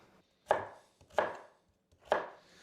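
A knife chops through sweet potato into cubes on a board, three separate crisp thuds spaced roughly evenly, each with a short fading tail, close and fairly quiet with near silence between strokes.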